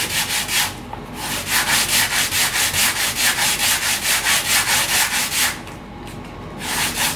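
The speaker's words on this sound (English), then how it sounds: "So let's finish the sanding" Steady back-and-forth hand sanding of a wooden model aircraft wing edge, a rhythmic rasping scrape repeated in quick strokes, close and loud, pausing briefly once before resuming.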